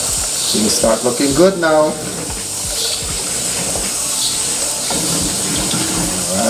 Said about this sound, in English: See, water start boiling.